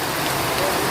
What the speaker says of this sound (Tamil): மழை எப்படி பெய்யுது பாருங்க.